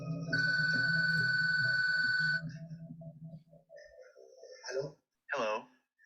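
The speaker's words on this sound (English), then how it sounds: "It's like this envelope is ringing." A steady electronic ringing tone with bright harmonics sounds for about two seconds over low murmuring voices, then stops, followed by brief rustling and a short voice.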